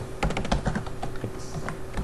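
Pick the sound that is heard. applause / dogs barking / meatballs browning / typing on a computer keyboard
typing on a computer keyboard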